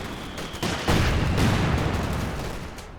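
A Katyusha rocket barrage in Company of Heroes 2 lands as a rolling burst of blasts and crackling fire, loud and sustained before slowly tailing off.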